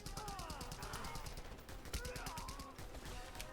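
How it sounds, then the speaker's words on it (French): Machine gun fire in a video game, heard as fast repeated cracks running through the whole stretch, fairly steady and mid-distance, with other game noises layered over it. "J'entends un gars à la mitrailleuse."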